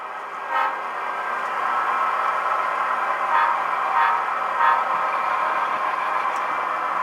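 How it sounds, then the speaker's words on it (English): An MTH Proto 3 O gauge model locomotive runs on a DCC-controlled push-pull shuttle layout, giving a steady mechanical hum with several short horn-like toots and clicks. "Okay, now here's this loco, the red loco,"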